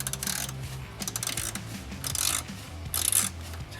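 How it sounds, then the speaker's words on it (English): Hand retightening a bracket on a cold air intake in the engine bay of a 2006-2010 Dodge Charger 3.5L, giving close, soft metallic rubbing, scraping and small clicking sounds in uneven bursts with no talking. "I'm gonna reach in here and retighten this bracket"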